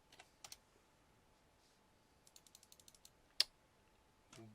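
Light tapping while typing text into a mobile game, Dungeon Crusher: Soul Hunters, a quick run of soft, faint clicks with one sharper tap, set against near silence.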